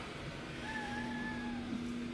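A house cat lets out one drawn-out, steady meow indoors at home, fairly close and moderate in volume over a constant low background hum, with no one talking.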